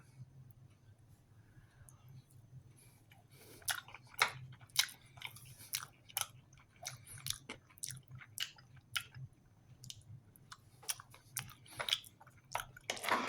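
Someone chews a mouthful of muesli from a French military ration breakfast, with quiet, close crunching and wet squishing bites in an irregular rhythm over a low background hum.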